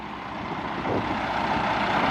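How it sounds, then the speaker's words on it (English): A loud, steady engine rumble from a semi truck idling nearby, broadband and continuous, with the noise swelling slightly after the first second. "Because that truck is loud."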